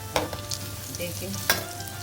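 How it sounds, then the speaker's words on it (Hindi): Pakoras for kadhi pakora fry in hot oil with a soft, steady sizzle, punctuated by a couple of sharp clinks and scrapes of a spoon against the pan. "जब ये तेल गर्म हो जाए हम इसमें डालेंगे पकौड़े।"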